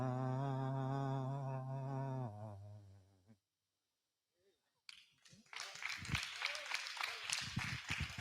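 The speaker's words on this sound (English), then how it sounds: "One more time, round of applause for Brother Hollis, Watkins, Muhammad, and of course his wife, Sister Edna Muhammad" Audience at a Freedom Celebration applauding after a sung 'Let It Shine', with sustained singing and organ-like tones fading to silence, then a burst of clapping and cheering that grows loud and continues to the end.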